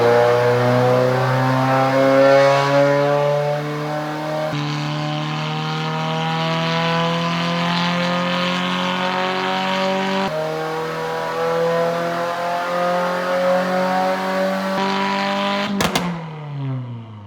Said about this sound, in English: We are dynoing the WRX VB right now.